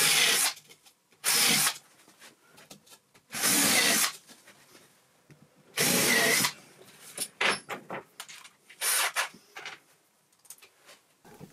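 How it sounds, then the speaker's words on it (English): A power drill counterbores screw holes in a wooden batten for plywood shelving, with several short, loud whirring bursts of about a second each, separated by brief pauses and lighter handling clatter. "While I'm at it, I'll counterbore these holes."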